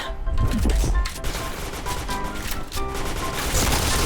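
Video game gunfire with a water-splash impact effect, a dense continuous burst of shots and splashy crackle running loud and steady throughout, close and busy.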